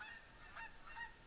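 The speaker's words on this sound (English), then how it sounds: "When you have a huge flock of about 10 geese coming in at once." A flock of about ten geese honks in the hunting video game Call of the Wild, several faint, distant calls overlapping in a short burst.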